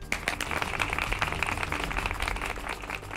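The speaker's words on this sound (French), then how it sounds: "Applaudissez fort!" Crowd applause at a family celebration before a dance show for newlywed couples, a steady wash of many hands clapping at moderate volume, with music and murmuring blended underneath.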